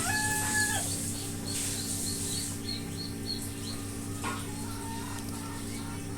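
Chickens on a farm cluck and call in short scattered bursts at moderate distance over a steady low hum, with a crowing rooster faintly among them.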